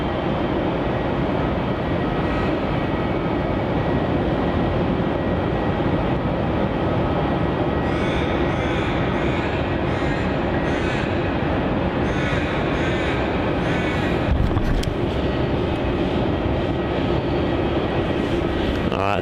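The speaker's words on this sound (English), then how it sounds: "Embraer is not far away from touching down here" An Embraer jet comes in to land at Melbourne Airport, a steady broadband engine roar that holds throughout at moderate distance, with faint higher tones joining partway and a brief louder swell near the end.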